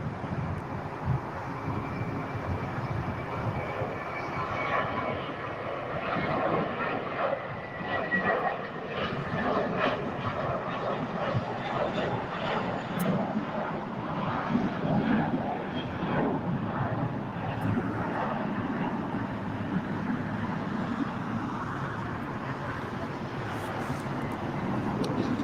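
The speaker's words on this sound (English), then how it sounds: "A321 taken off." A JetBlue Airbus A321 takes off at LAX, a long, broad jet-engine roar heard from a distance outdoors with wind buffeting the microphone, steady and sustained throughout.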